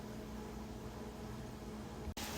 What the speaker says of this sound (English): ignore the sizzle sounds because I'm cooking up my burgers